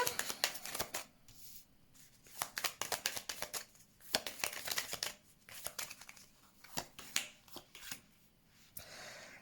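Tarot cards being shuffled by hand, close and crisp, in repeated quick riffling bursts with short pauses between them.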